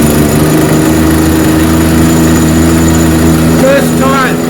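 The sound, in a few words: Husqvarna 129L string trimmer engine starting and running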